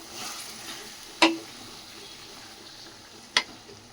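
Chicken keema, about half a kilo, sizzles steadily in a pan, with two sharp clinks of a utensil against the pan standing out above the hiss.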